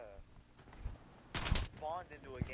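Battlefield 3 video game gunfire, heard as one brief, loud burst of shots in the middle, with someone talking before and after it.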